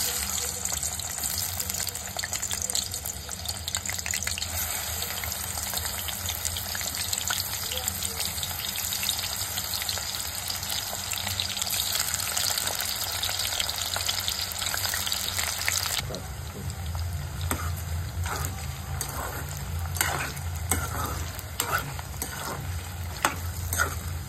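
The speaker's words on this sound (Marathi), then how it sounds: "त्यानंतर ह्यात सुरण आपण सोडून ते चांगल्या तऱ्हेने तळून घ्यायचं आहे" Pieces of elephant foot yam deep-fry in hot oil, a loud, continuous bubbling sizzle that stays dense for a long stretch, then eases slightly and turns more crackly with scattered pops.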